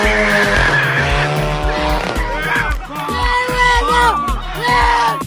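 A Volkswagen Golf 7 GTI revs hard with tires squealing and skidding, loud and close, the engine note rising and falling under the screech, with crowd noise and talking mixed in.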